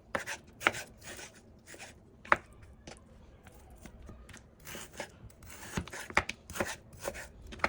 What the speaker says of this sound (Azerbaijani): Birinci bunları belə formada doğrayırıq.